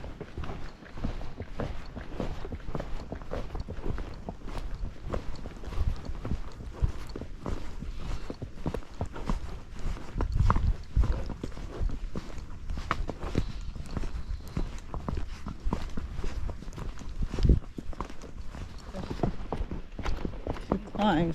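Hooves of a Tennessee Walking Horse clip-clop in a steady walking rhythm on a dirt and stone trail, fairly close, with occasional heavier thuds and faint talk underneath.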